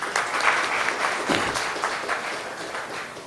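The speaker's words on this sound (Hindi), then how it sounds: "इनके लिए तालियां होनी चाहिए" Sustained applause from an audience at the Azadi Cruise 2022 press conference, a steady wash of clapping lasting a few seconds with no voices over it.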